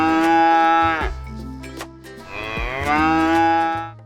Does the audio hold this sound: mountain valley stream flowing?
no